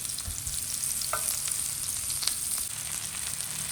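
Ginger, shallots and garlic fry in a pan with a steady, close sizzle and faint stirring scrapes, and no one speaks.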